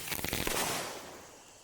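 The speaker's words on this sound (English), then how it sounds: "Dude, that was a crazy explosion." Car battery fuses blow with a bare bolt in a sharp explosive burst, a crackling rapid-fire bang that fades into a lingering hiss within about a second, fairly faint overall.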